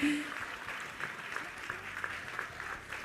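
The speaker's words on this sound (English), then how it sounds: "Clap it up for them." Conference audience in a hall applauding, a dense wash of clapping from many hands that holds steady for a few seconds, fairly distant and moderately loud.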